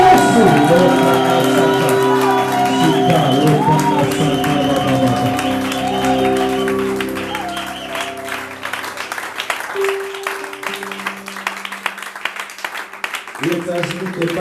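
A Kenyan church congregation clapping for Jesus: sustained crowd applause mixed with voices and sung or musical tones early on, continuing as a busy, rhythmic clatter of hands with people talking over it.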